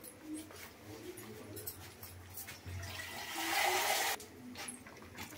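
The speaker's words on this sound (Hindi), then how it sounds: "मैंने इसमें थोड़ा सा और पानी डाल दिया" Water is poured into a pot of simmering chicken curry, making a rushing splash that swells for about a second before stopping, over faint kitchen background with brief bird and dog sounds.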